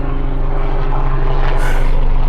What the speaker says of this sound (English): Another helicopter overhead.